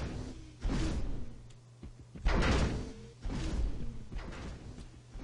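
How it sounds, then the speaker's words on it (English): Game-level door sound effects play three times: a sliding whoosh with a heavy thud as the moving door opens and closes, loud and alone, with short gaps between. "We have opening and closing sound effects."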